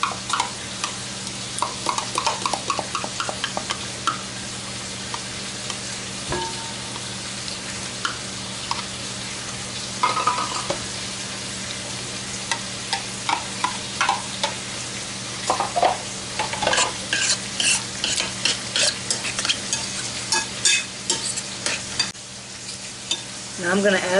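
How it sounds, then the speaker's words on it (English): Thick-cut bacon sizzles and crackles steadily in a pan while a spoon repeatedly scrapes and stirs sour cream and tomatoes in a bowl nearby, with faint clicks and no talking. "While my bacon's frying, I'm going to mix the sour cream and the tomatoes until they're well blended."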